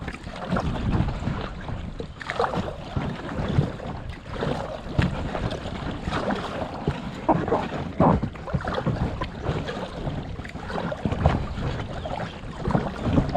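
Headwind buffeting the microphone while kayaking on the Aare river, a loud continuous low rumble with gusty swells throughout, mixed with faint water and paddle sounds.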